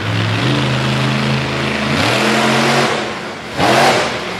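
A monster truck engine revs hard during a freestyle run, rising and falling in loud sustained bursts with a final sharp surge.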